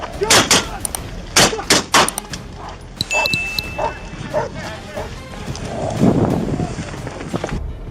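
Police officers open fire on an armed suspect lying on the ground after a K-9 tackle; a rapid series of sharp, loud shots cracks out, mixed with a barking police dog and shouted commands.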